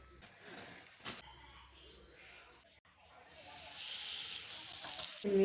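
Thalipattu flatbread frying in oil on a hot pan gives a steady, bright sizzle that swells in the second half, close by, with someone speaking Kannada early on.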